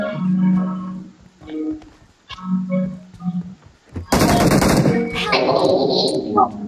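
Gunfire in the video game BGMI on the Livik map breaks out in a loud burst of shots midway, with clattering follow-up sounds after it, while players talk and shout before and around it.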